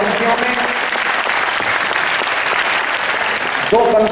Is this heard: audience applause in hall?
yes